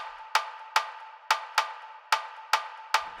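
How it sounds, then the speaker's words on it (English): Programmed Afrobeat drum pattern built in FL Studio at a moderate tempo, a bright metallic cowbell-like hit repeating in a syncopated, swung rhythm with short decays, alone and fairly quiet. "let's create a simple Afrobeat groove over here, drum pattern"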